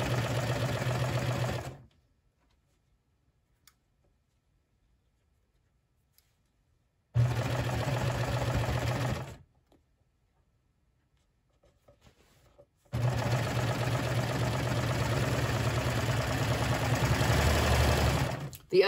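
Serger sewing machine stitching swimsuit fabric, a steady close mechanical whir that runs in three bursts of a few seconds each, separated by silent gaps.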